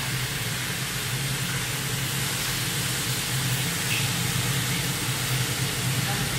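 Fish fries in hot oil with a loud, steady, broadband sizzle and hiss that continues without a break throughout.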